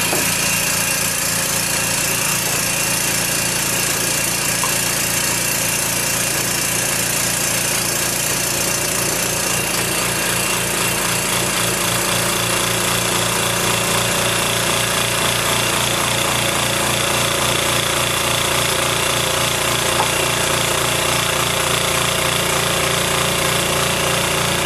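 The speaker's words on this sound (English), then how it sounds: "start the pump." A laboratory vacuum pump drawing liquid into a vacuum flask runs loud and steady, a dense mechanical rattle and hum that continues unbroken and close throughout.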